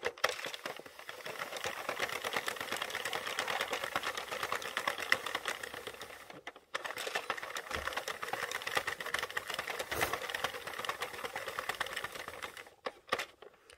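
A Sentro knitting machine cranks out rows of a fair isle beanie with a continuous, busy clatter of rapid ticking, close up, with a brief break partway through.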